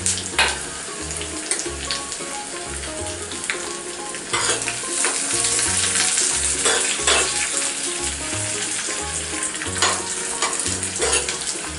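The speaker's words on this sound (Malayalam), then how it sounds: "നമ്മളെ ഉള്ളി ഒന്ന് മൂത്ത് വരട്ടെ." Shallots fry in hot oil in a pan for a Kerala-style crab curry, a steady close sizzle broken by repeated scraping stirs of a utensil, with no talking.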